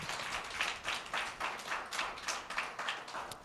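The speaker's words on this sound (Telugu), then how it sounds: "ఒకసారి గట్టిగా చప్పట్లు కొడతారా?" A church congregation at LCM Nadergul claps loudly in a quick, uneven patter of many hands. The bursts come close together and fill the room throughout, with no speech over them.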